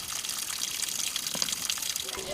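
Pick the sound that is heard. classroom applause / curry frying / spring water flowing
spring water flowing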